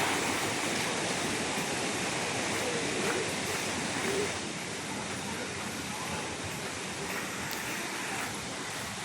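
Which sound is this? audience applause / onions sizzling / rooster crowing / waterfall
waterfall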